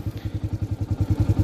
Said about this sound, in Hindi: अब देखिए क्लच को मैं धीरे धीरे छोड़ूंगा